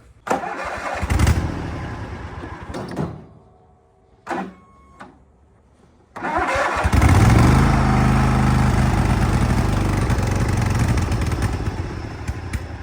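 A troublesome lawn mower engine that has run out of gas sputters and cuts out, with brief revs and gaps of near silence, then restarts and runs loud and steady close by.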